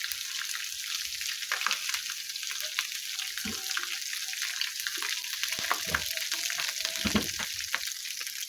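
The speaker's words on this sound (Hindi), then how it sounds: "अब लहसुन को दाल के ऊपर डाल देते हैं।" Browned garlic tempering poured over dal for dhaba-style dal chawal, giving a steady hissing sizzle with crackles and faint stirring clatter throughout, close and unbroken, with no talk.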